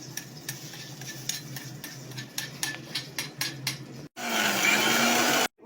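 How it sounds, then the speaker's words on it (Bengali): Light clicks and tapping while spices are readied for a Bengali fried eggplant dish give way to a kitchen mixer grinder that roars loud and steady for about a second and a half, then cuts off abruptly. "সমস্ত মশলাগুলোকে এবার মিক্সারে গুঁড়ো করবো।"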